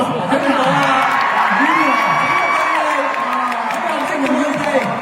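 A concert crowd at a show cheers and whoops loudly, with shouting voices rising over sustained clapping and noise from a large audience.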